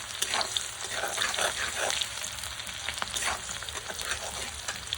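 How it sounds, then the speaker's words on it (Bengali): Onion fries in a pan with a dense, continuous crackling sizzle as it is stirred, occasional utensil scrapes rising over it, heard up close with no voices. "অল্প একটু পেঁয়াজ দিলাম। দিয়ে একটু নাড়াচাড়া করবো।"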